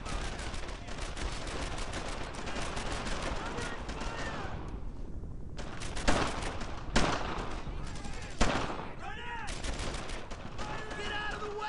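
Gunfire in the World War II shooter game Brothers in Arms: Earned in Blood, with dense, continuous rifle and machine-gun fire and several louder nearby shots standing out from the steady battle din.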